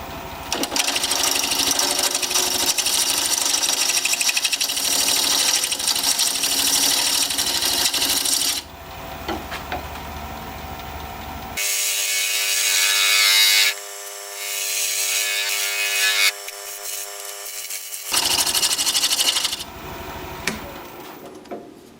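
A wood lathe turns a vase, its tool chipping at the top rim: a loud, steady whirring scrape that breaks off and restarts in several distinct passes, with no talk.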